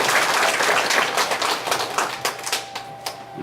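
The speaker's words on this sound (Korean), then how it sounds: "를 위해서 박수 한번 크게 해주시죠." A church congregation claps together in a burst of applause that thins into scattered, separate claps before fading out.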